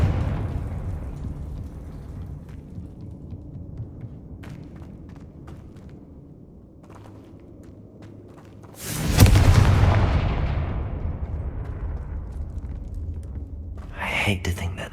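Confringo fire spell blasts in Hogwarts Legacy: a sudden loud burst near the nine-second mark with a roaring, crackling tail that slowly fades, followed by a smaller sharp burst near the end, over a steady low game ambience.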